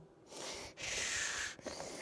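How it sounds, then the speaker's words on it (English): Heavy breathing close to the microphone, two long breathy exhalations with a short pause between them, then a quieter breath at the end, with no talking. "Let's get that heavy breathing in there."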